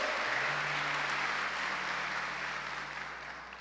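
Sustained applause from a large church congregation during Mass, dense steady clapping that gradually fades slightly toward the end.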